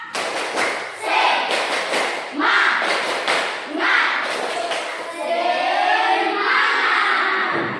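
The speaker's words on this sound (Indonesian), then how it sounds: "Tepuk semangat." A classroom group claps a rhythmic spirit-clap pattern in loud bursts, with shouts and voices mixed in, followed by steadier crowd noise.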